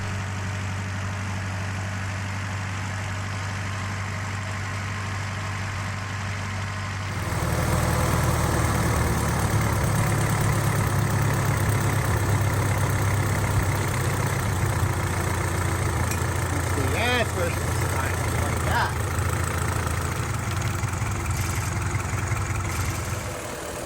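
A Model A Ford engine, freshly swapped in, idles steadily on its own, first a softer running tone and then a louder, fuller idle with a constant low rumble and light mechanical chatter.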